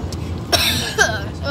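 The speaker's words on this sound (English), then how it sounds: "You're just coughing or faking." A person coughs twice in short, sharp bursts close by during a car journey, with a low road hum running underneath.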